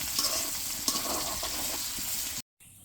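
Raw jackfruit frying in oil in a wok, a close, steady hiss and sizzle with a few bubbling bursts that cuts off abruptly near the end.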